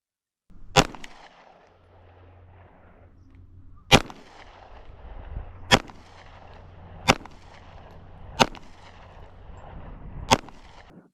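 A Canik MC9 pistol fires six single shots at an outdoor range, each a sharp, loud crack spaced about one to two seconds apart, with quiet pauses between them.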